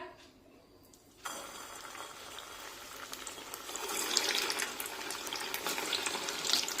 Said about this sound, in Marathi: या तेलामध्ये हे ब्रेड रोल तळून घेऊया